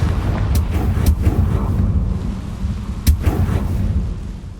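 A Confringo blasting spell in Hogwarts Legacy sets off a few sharp explosive bursts over a low rumbling background, loud and close, with cracks spaced a second or two apart.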